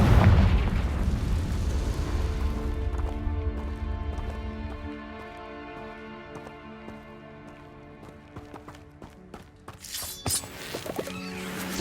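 A Confringo fire spell explodes in Hogwarts Legacy with a loud booming blast, then a long fading rumble and ringing tail. A sharper crackle bursts in near the end.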